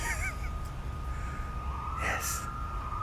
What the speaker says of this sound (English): The birds flying around. Do not know what kind of bird that is, but it's bird nonetheless.